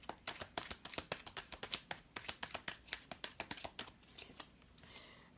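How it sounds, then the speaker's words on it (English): Tarot cards are shuffled in a quick riffling run of sharp, papery snaps, close and fairly quiet, tapering off at the end. "Spirit's last shuffle."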